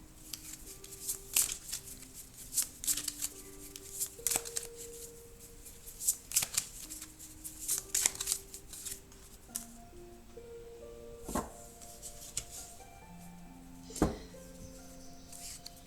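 Tarot cards are handled and laid down on a surface, making sharp close slaps and soft shuffling swishes at irregular intervals. Faint background music plays throughout.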